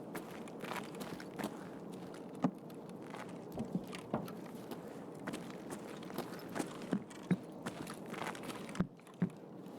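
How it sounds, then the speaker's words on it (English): Footsteps in the video game Escape from Tarkov: quiet, uneven steps and shuffles with scattered sharper thuds over a faint steady ambient background. "I think I heard a footstep or a shuffle outside then."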